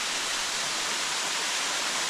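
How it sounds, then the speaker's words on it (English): Water pours steadily at Holmes and Shangri La Falls, a dense unbroken hiss and roar of falling water, close and uniform with no voices. "it's a straight shot to the full waterfall, so you can see the whole thing"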